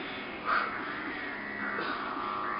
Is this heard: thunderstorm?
no